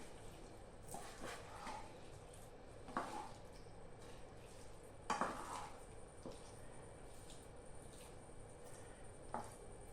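Beef and plantain stirred in a pan, with faint, repeated scraping and clinking strokes of a spoon against the metal, spaced irregularly under a low background hiss.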